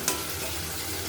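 Spice paste for a rohu fish curry frying in a pan, a soft continuous hiss and sizzle, close and steady, with one small tap at the start.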